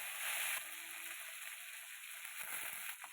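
Curry leaves sizzle in hot oil with mustard seeds and dried chillies while rasam is cooked, a steady bright crackling hiss, close and moderately loud throughout.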